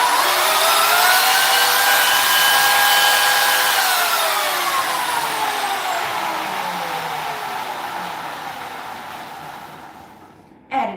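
Power saw with a tightened blade running, a loud steady whine that slowly drops in pitch as it winds down, ending in a brief clunk, with no talk.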